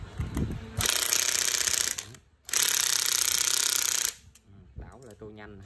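A cordless drill running in hammer mode at slow speed gives two loud, sustained rattling hammer bursts of about one and a half seconds each, split by a short pause, with brief talk before and after.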